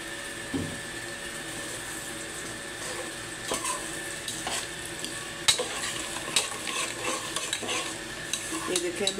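Semolina roasting in oil for halwa, stirred with a spoon: a continuous low sizzle broken by frequent scraping and clinking strokes of metal against the pan, growing busier toward the end.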